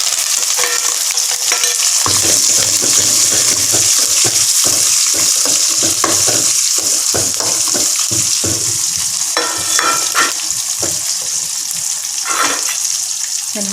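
Shallots, dried red chilies and curry leaves fry in hot oil for a radish sambar, giving a steady, loud sizzle with bursts of crackling and the scrape of stirring throughout.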